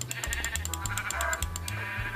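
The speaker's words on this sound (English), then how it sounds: "I need some wool from these sheep" Sheep in the Minecraft video game bleating repeatedly in short, wavering calls, several in quick succession over a steady game backdrop with a pulsing pattern of clicks, loud and close with no talking.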